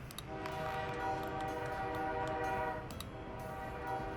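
A train in the video game Workers & Resources: a rumbling train with a long, sustained horn blast that sounds, pauses and sounds again over steady rail noise, moderately loud with no voices.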